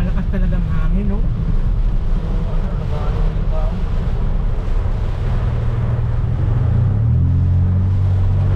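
Loud, continuous storm wind roars and rumbles against the microphone during a typhoon with heavy rain, with tonal whistling and droning noise throughout.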